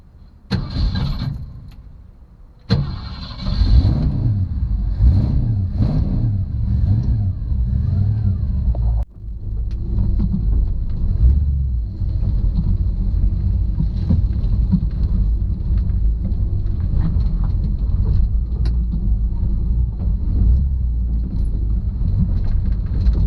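A 1965 Ford Mustang engine starts and settles into a loud, steady low rumble while the car backs out, running continuously at close range with no talking.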